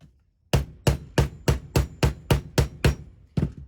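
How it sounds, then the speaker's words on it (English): Nine sharp hammer strikes on metal ring out in a steady rhythm, close and loud, with no talking. "I'm going to finish hammering this out."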